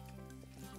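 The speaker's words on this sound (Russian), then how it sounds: "Базилик во фритюре. Жареные листики базиличка." Basil leaves deep frying in hot oil, giving a steady, close, continuous sizzle with no talk over it.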